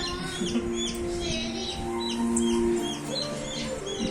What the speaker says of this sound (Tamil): கோழி குஞ்சு உன் பக்கத்துல உட்காருப்பா.